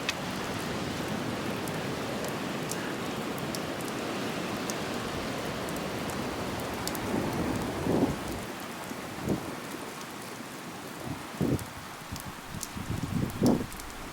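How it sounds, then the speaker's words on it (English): Steady rain falls on a beach in a dense, even hiss, with low rumbles of thunder rolling in and fading through the second half, heard without any talking. "And the rain comes down."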